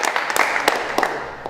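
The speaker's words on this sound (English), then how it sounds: "Yes, clap for him." Children in a classroom clapping for a classmate, a short burst of several quick, uneven claps, fairly close and moderately loud, then fading out after about a second and a half.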